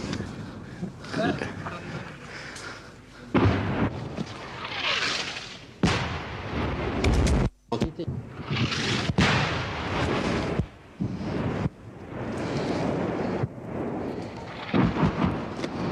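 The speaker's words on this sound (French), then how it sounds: "Je disais justement que l'artillerie française ne réagissait pas vite aujourd'hui" Distant French artillery fire rolls in as deep, muffled booms and rumbles, several irregular blasts layered over a noisy outdoor background, with voices faintly present.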